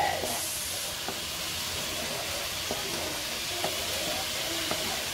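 Garlic and onion sautéing in a pan for a Baguio beans with sotanghon dish, a steady loud hiss and sizzle with occasional small pops throughout.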